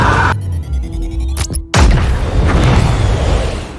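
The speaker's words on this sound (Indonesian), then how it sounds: "boneka itu meledak bersama dengan Keok-song pada jarak yang cukup jauh dari pesawat" A teddy bear bomb detonates in a film with a sudden deep boom after a brief quiet moment, then a rumbling blast wash that lingers and slowly fades.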